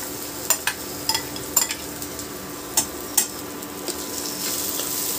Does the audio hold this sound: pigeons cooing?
no